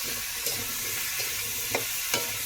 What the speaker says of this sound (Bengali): বেশ খানিকক্ষণ ধরে ভাজা করব খুব বেশি না তবে বেশি একটু ভাজা করে